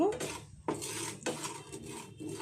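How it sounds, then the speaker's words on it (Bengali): Semolina is dry-roasted in a pan with a spatula, making a few distinct scraping and clinking strokes against the metal, quiet and close. "এখন প্যানের মধ্যে অল্প কিছুটা সুজি আমি ভেজে নিচ্ছি।"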